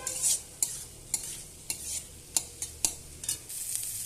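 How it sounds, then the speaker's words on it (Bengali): Fried potatoes are stirred into masala in a pan: about eight distinct scraping strokes in an uneven rhythm, close and fairly soft, over a faint steady sizzle. "এবার আমি ভেজে রাখা আলুগুলো দিয়ে দেবো, দিয়ে ভালোভাবে কষাবো"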